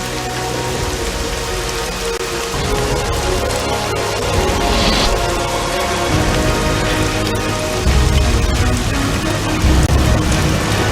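Heavy rain pours steadily and loudly, a dense close patter on surfaces with low rumbling underneath, continuing without voices for the whole stretch.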